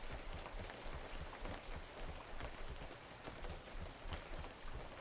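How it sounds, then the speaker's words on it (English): Steady rain falling on a surface, a dense, even patter that continues unbroken for the whole stretch, fairly faint and with no voices. "Nope, it's raining."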